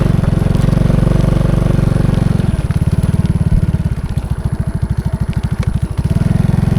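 A motorcycle engine idles close by, then revs into a fast, loud rhythmic putter that pulses unevenly for several seconds before settling back, with no talk.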